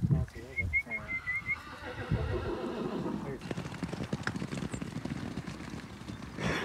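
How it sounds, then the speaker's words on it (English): A horse gives a loud, wavering whinny near the start, then hooves thud in a fast, irregular run across open ground as it chases a dog, with voices talking faintly beneath. "Horse is chasing the dog."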